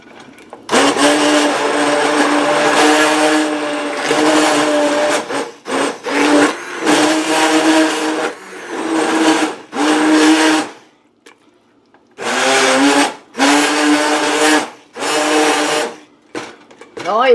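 Immersion blender churning soup in a pot, loud motor whirring in repeated bursts of a few seconds each, separated by short stops, with people talking faintly between bursts.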